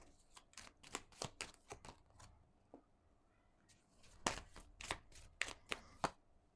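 Tarot cards being shuffled by hand, two bursts of quick crisp riffling flicks separated by a short pause, close and quiet with no talking.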